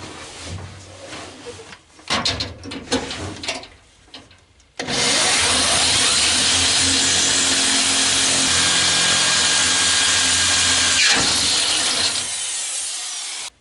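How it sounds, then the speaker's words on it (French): An electric drill fitted with a 5 mm bit bores through the body sheet metal inside the trunk of a Citroën Traction 11B. A few short knocks come first, then a loud, steady, close grinding whine that runs to the end. "alors pour le premier perçage, je me glisse dans le coffre de ma voiture, un forêt"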